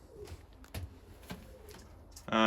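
Pigeons in a racing pigeon loft give soft, low cooing calls in short scattered bursts, with a few muffled knocks and a louder burst of sound at the end.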